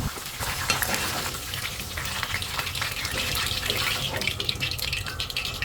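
Plantain pieces frying in hot oil for a Sri Lankan kaliya curry, giving a steady, dense sizzle and crackle throughout with faint stirring and no talk.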